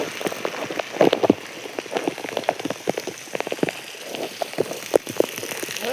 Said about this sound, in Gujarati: ઓલરેડી વરસાદ પડે છે